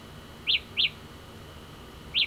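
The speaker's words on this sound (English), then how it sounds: "It's a nice little chirp. It gets louder and louder as you keep going." A Samsung Galaxy Buds Pro earbud emits locating chirps: two quick high electronic beeps close together, then a third after a pause, loud and clear over a quiet background.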